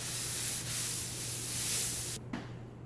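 A cloth wipes excess cutting board oil off a butcher block countertop with a continuous, close, broad rubbing swish that stops abruptly, followed by a faint touch.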